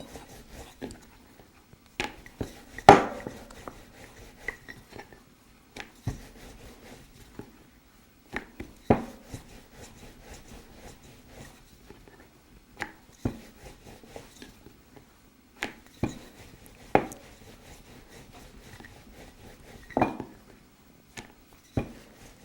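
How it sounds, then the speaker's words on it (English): Chapati dough being rolled out on a board with a rolling pin, giving sparse soft knocks and taps at irregular intervals in a quiet kitchen. "can finish rolling the rest of the chapatis"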